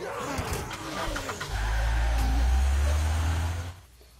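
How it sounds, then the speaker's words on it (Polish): A car engine in The Walking Dead video game catches and revs up, a deep rumbling roar that swells loud and holds for a couple of seconds before dropping away, following earlier rattling game noise. "Odpalił samochód."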